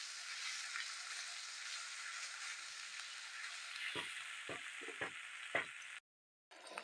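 Chicken frying with spices in a pan, producing a soft, fairly faint steady sizzle, with several short scraping stir strokes near the end before a brief silent break.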